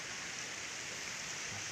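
Clear river water flowing steadily in Tukalan, a broad even rushing wash heard close and alone, with no voices.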